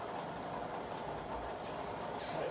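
A Bridgeport milling machine with a 42-inch table, its spindle winding down to 70 RPM in high range, giving a steady, quiet mechanical whir and rumble with a faint high whine, no voices.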